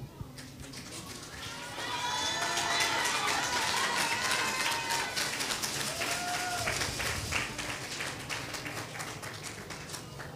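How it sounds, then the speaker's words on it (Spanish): A TV singing-competition audience applauds an eliminated contestant on the finale broadcast, clapping that swells after a couple of seconds into sustained crowd applause with cheers and whoops mixed in, then eases slightly toward the end. "un fuerte aplauso por favor para"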